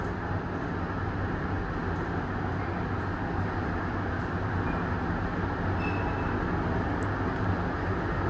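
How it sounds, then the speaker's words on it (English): A steady, loud rumble and drone of a Washington Metro train running continuously at Huntington station, with a faint high squeal appearing briefly near the end. "You see the train right there."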